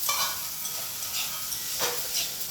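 Food sizzling and frying in a pan with intermittent stirring scrapes, a steady close hiss with occasional louder bursts.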